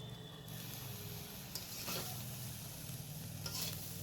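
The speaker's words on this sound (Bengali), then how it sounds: "সব কিছু ভালো করে এইভাবে মিশিয়ে নেব।" Fried rice being stirred in an oiled pan with a little sugar, giving a steady close sizzle with scraping stir strokes throughout and a few sharper scrapes; no talking.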